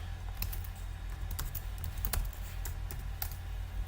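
Typing on a Thai computer keyboard, a quick run of light key clicks with a few sharper taps, quiet and close, no speech.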